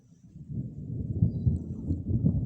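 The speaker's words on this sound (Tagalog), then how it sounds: "Abutin tayo yata ng bagyo sa ating pag-vlog mga idol." Low thunder rolls in from an approaching storm outdoors, a deep rumble that swells gradually and keeps building, steady and unbroken, with no voices.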